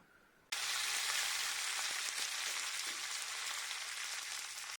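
Curry leaves dropped into hot oil in a pan, crisping with a sudden loud, steady sizzling crackle that continues at close range until it abruptly stops.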